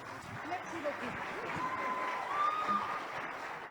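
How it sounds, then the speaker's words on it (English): Audience applause at a world congress on stray animal welfare, a broad wash of clapping for a speaker named James, steady and moderately loud throughout, with faint voices and a few whistle-like tones mixed in. "A round of applause,"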